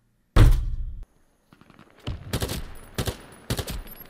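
SMG fire from a Desert Tech MDRX in a video game: one loud burst, then after a short pause several quick clusters of sharp shots, close and clear with no talk.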